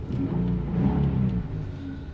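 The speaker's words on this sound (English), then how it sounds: "you can hear that nice note coming from the exhaust" Exhaust note from a 2010 Nissan 370Z sports car, a steady low rumbling idle that swells briefly as if blipped, heard close and alone.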